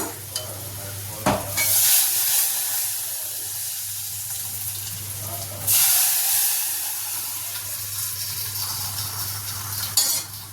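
Shredded cabbage stir-frying in a pan until dry, a steady close sizzle broken by a few louder bursts of stirring and scraping, with no talking.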